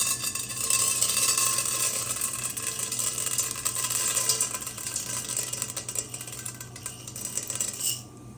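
Popcorn kernels poured into melted oil in a pot on a stovetop: a dense, steady rattling patter for about eight seconds that stops abruptly, with a faint sizzle underneath.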